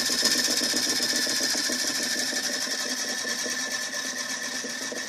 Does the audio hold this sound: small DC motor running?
yes